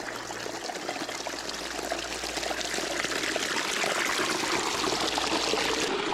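Massive gorge waterfall cascading from one pool to the next after the wet season, a steady, dense rushing and splashing that holds loud and unbroken throughout, with no voices.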